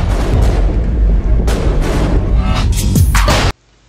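Russian combat robots firing guns, heavy booming shots and rumbling blasts in quick succession, loud and dense throughout before cutting off abruptly.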